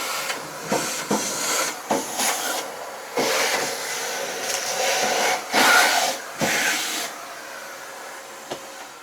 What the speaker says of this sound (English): we are going to hoover out all of the debris